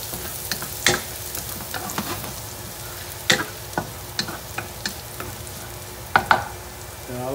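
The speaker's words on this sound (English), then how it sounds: "So, okay, put some garlic. So saute a little bit." Garlic sautéing in a pan before ribs go in: a steady low sizzle with scattered sharp clicks and scrapes of stirring, moderately close, no talking.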